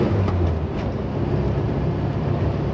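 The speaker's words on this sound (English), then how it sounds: "Sounds really good with that exhaust." A 1973 VW Super Beetle engine and exhaust on the road after years off it, a steady, loud, rumbling low drone with constant road noise and no talking.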